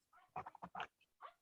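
A dog making short vocal sounds during a zoning board meeting, several quick muffled yips in a cluster with a final one after a brief pause, faint and picked up through the meeting microphone.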